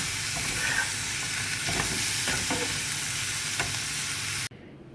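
Mushrooms frying and being stirred in a pan with tikka and shawarma spices, a steady close sizzle with scraping stir strokes, cutting off abruptly near the end.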